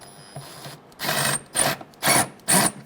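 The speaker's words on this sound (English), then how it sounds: "with an 8mm socket, we're going to tighten down" An 8mm socket tightens bolts on the throttle body of a 2003-2011 Honda Element, heard as four quick bursts of ratcheting, each about half a second long, close and clear with short gaps between.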